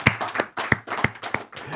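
A church congregation claps hands during a Sunday service, in loud, close, roughly rhythmic bursts of clapping about three per second, with no talking over them.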